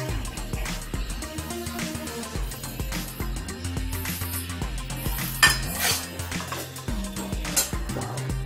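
Spoon stirring paneer and vegetables with masala in a metal kadhai, repeated clinks and scrapes against the pan over a low sizzle, close and steady with no talking.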